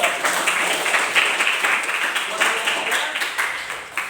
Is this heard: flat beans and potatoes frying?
no